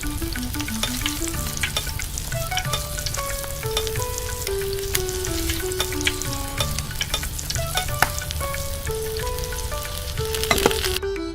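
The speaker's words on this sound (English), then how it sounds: "Stir and mash it until it's nice and smooth." Chicken masala is stirred and mashed in a hot pan, its loud continuous sizzle broken by scraping and tapping strokes of the spoon, while background music plays over it with no talking.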